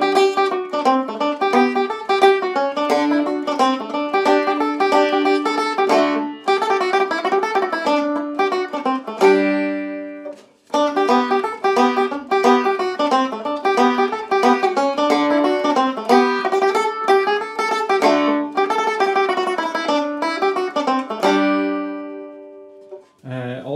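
Irish tenor banjo playing The Steampacket Reel, bright rapid picked notes in a steady reel rhythm, close and loud, with a brief pause midway and a final ornate ending, no talk.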